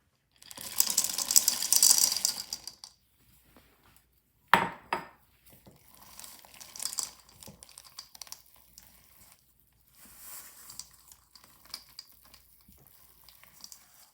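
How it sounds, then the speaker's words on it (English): A spatula scrapes the sides of a bowl of triple chocolate cookie dough, giving short clicking, ratcheting scrapes in uneven bursts with quiet gaps between them and one sharp knock against the bowl. "Now taking my spatula, I'm going to go ahead and scrape down the sides of my bowl one last time."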